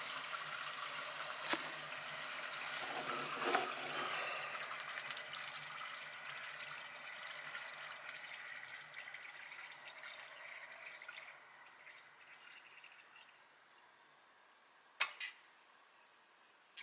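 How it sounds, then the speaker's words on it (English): Water rushes steadily through the pipes and fittings of an APEC reverse-osmosis and UV filter system, gradually fading, with a couple of sharp clicks near the end. "I'm going to turn the water on."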